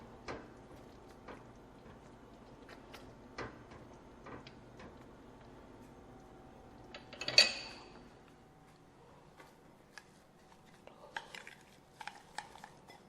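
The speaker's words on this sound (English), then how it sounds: "Stir my sauce, which is already thick enough for me to use for this recipe." A utensil stirs thick sauce in a pot, giving faint, scattered clinks and scrapes against the metal with one sharper knock midway, in a quiet kitchen.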